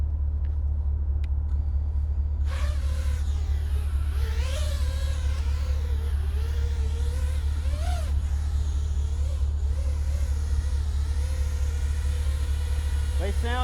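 A multirotor drone fitted with T-Motor Velox V motors hovers nearby, giving a loud, steady droning buzz with a motor whine that wavers up and down in pitch throughout.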